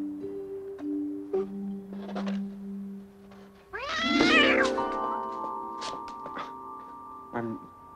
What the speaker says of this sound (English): Poor old cat.